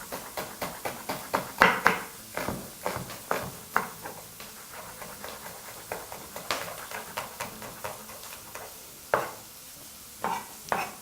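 Spoon stirring onions in olive oil in a pot: repeated scraping strokes in an uneven rhythm, close and moderately loud, over a faint sizzle, with no talking.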